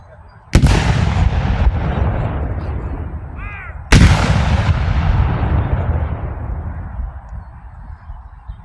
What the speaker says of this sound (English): you can still get hurt by the percussion force out of them cannons